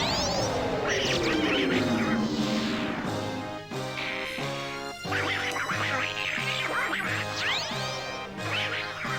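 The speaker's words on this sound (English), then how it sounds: "occasionally it sounds like Donald Duck" Angry, Donald Duck-like quacking squawks from a boss in the Donkey Kong 64 Frantic Factory level, repeated in rapid bursts over busy game music and effects, fairly loud and continuous.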